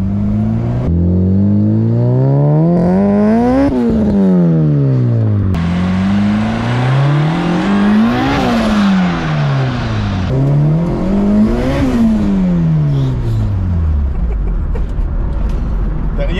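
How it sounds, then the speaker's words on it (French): A 1990 Honda CRX engine revs up and drops back in repeated rising and falling sweeps, loud and close, with several sharp climbs toward the end before settling. "Comme un moteur Honda qui vient à 1300 tours"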